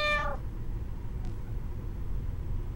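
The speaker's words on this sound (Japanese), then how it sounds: "餌があるからこの猫が来てたのか。" A cat meows once in a survey-themed horror adventure game, Twilight Syndrome Special. The cry is short, near and clear over a low, steady game ambience, with no talk.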